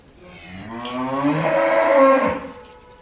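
A cow among a group offered for sale lows once in a long, close, loud moo that swells and then fades, heard alone with no talking.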